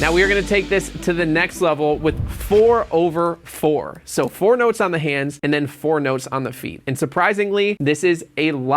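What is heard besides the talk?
None of the usual background noises is heard.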